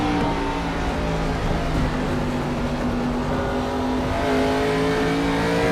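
Race cars running nose to tail at Nashville Fairgrounds Speedway in a Freedom Racing Series event, engines revving in a steady loud drone with overlapping pitches as the pack passes.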